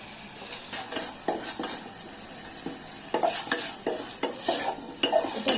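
Shredded boiled chicken breast with spices being mixed and fried in a pan, repeated spatula scrapes and clacks over a constant bright sizzle, close and fairly loud.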